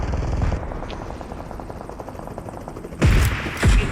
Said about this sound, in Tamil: ஹெலிகாப்டரா? ஹெலிகாப்டர்.